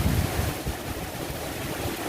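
A river swollen by heavy rain rushes past, a broad continuous roar of fast water, steady and fairly faint, with no voices.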